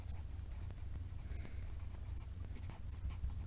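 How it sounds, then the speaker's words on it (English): A pen or pencil scratches across paper as numbers are written out by hand during a sixth-grade math lesson, a close, soft, continuous scribbling with small strokes and pauses, quiet and without speech. "I'll even write it out"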